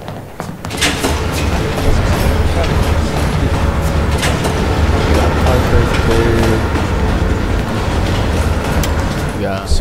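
A subway train carrying the player through Berlin in Black Ops Cold War rumbles and rattles steadily and loudly throughout, with sharp clacks near the start and faint tones partway through.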